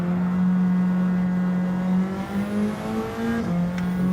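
Car engine in the Gran Turismo 7 racing game holding a loud, steady high drone with rising and falling pitch shifts as it revs and shifts gears, continuous and up close with no talk.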